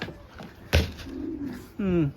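Racing pigeons coo softly nearby, a few low throaty calls, along with a sharp knock and quiet background murmur.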